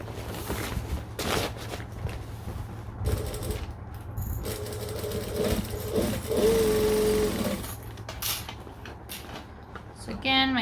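Sewing machine stitching steadily around the edge of a fabric overnight bag, a continuous close mechanical hum and rattle with small shifts in pace and a few brief pauses.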